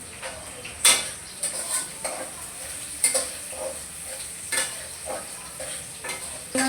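Onions and chillies fry in a pan for a fish curry, a soft steady sizzle punctuated by irregular clinks and scrapes of a spoon stirring against the metal, close up with no talk.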